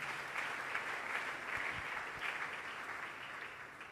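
A church congregation claps together, a fairly faint, continuous patter of many hands with a few slightly stronger bursts, heard alone without talking.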